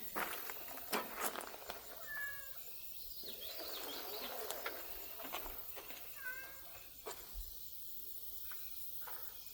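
A cat meows outdoors at an off-grid homestead, several short high squealing calls spread across the stretch, fairly faint against background noise and a few clunks.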